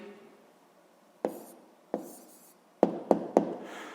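A pen writes an answer on paper during a sixth-grade math lesson, heard as a few sharp taps and short scratches close by in a quiet room.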